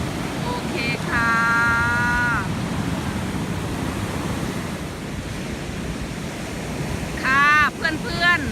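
Sea waves at Karon Beach, Phuket, wash in a steady, broad roar of surf with wind buffeting the microphone throughout, and brief tonal calls rise above it at the start and near the end.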